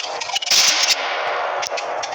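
A loud burst of gunfire crackles right up front, with a few sharp reports packed into the opening moments, then a rough, noisy tail that fades out.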